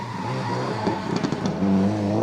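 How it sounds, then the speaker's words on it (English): A rally car on ice tires at the Tall Pines Rally pushes hard over frozen ground, its engine droning steadily as a brief high tire squeal rises near the end. "You can really hear the squeal of the tires"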